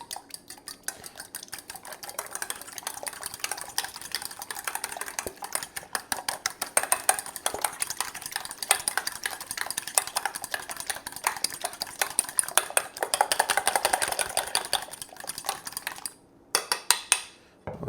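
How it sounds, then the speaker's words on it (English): Beaten eggs whisked briskly in a bowl make a fast, steady run of close metallic clicks and taps that continues unbroken before a short pause and a few final strokes. "We're gonna beat them and whisk them up."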